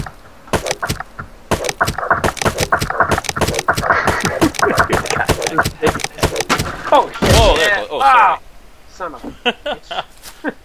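Repeated heavy thuds and cracks of a wooden door being broken down in Rust, a steady run of blows under near, constant talking.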